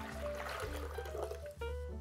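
Filtered water poured into a blender jug for a coconut hojicha chai, a continuous gurgling, trickling pour close by at a soft level with a brief dip near the end.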